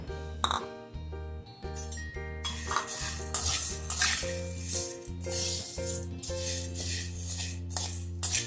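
Chana dal (split chickpeas), three bowls' worth, being dry-roasted in a pan for chakli bhajani flour, with scraping and clinking of a utensil stirring the lentils over steady background music.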